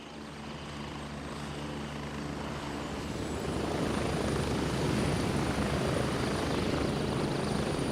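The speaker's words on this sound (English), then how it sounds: "we're going with the loud helicopter ride" Helicopter ride in the game Gray Zone Warfare, a loud steady rotor and engine drone that grows slightly heavier and more thumping partway through, with no talk.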